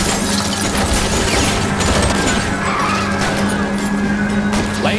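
Loud, continuous engine roar and skidding, squealing tires during a high-speed car chase in the 1940s Los Angeles video game L.A. Noire, sustained without pause and with no one talking.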